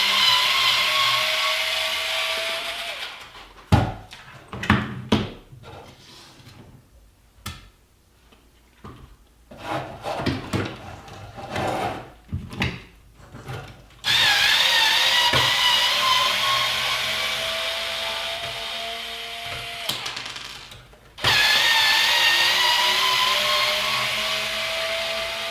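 A power driver backs screws out of a Traxxas XL5 RC truck's front bumper: long whirring runs at the start, middle and end with choppy clicks and short bursts between, all close and fairly loud.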